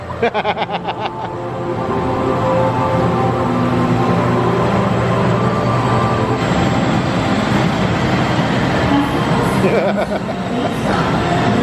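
A loud, continuous rumble of a train in motion, with rattling and a steady hum filling the space, heard from inside an empty carriage at SeaWorld Orlando.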